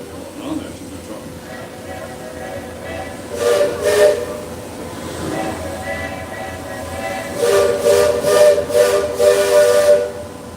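Steam whistles on a train and a riverboat trade toots in a Florida park at night: several drawn-out shrill blasts in two clusters, with steady hiss and background chatter beneath.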